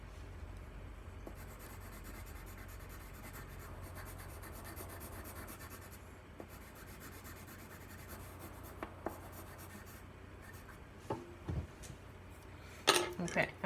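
Pencil strokes scratch steadily across paper while a fox is drawn with colored pencils at a library drawing party, a soft continuous rubbing with a few sharper taps and scrapes near the end.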